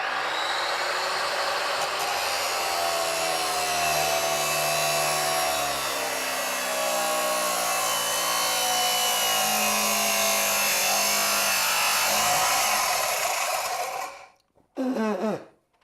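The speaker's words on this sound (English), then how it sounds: "that's why I wanted the Dremel as well" A Dremel rotary tool cuts into iron pipe, producing a loud, steady high-pitched grinding whine that runs continuously for about fourteen seconds, then cuts off, followed by a brief final burst.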